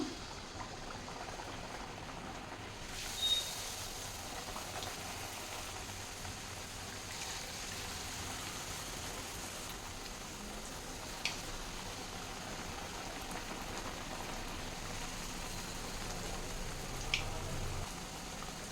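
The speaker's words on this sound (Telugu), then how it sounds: "ఇప్పుడు ఆయిల్లో వేసేస్తున్నాను" Chekkalu, Indian rice crackers, fry in hot oil with a continuous, even bubbling hiss, moderately close, with a few faint clicks and no talk.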